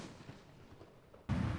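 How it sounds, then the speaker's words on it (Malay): One sudden, loud ceremonial cannon shot booms out after a quiet stretch, part of a 17-round royal salute marking a royal marriage solemnisation. "17 das tembakan meriam dilepaskan sebagai menandakan akad nikah diraja telah"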